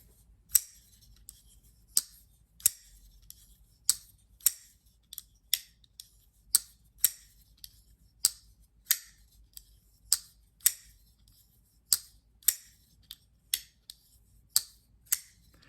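A Kizer folding knife with a flipper tab is flipped open and closed over and over, each action a crisp, close metallic snap, some twenty in a fairly regular rhythm with quiet gaps between.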